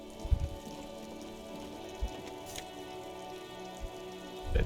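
Steady rain falls in the Disco Elysium video game, a soft continuous patter with occasional louder drops and low thumps, at a moderate level with no one talking.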